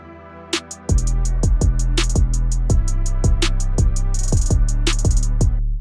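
A sample played back on an MPC Live 2 with the half-speed effect applied. It is a steady, rhythmic loop with deep low thumps and bright plucked tones, loud and upfront, and nobody speaks.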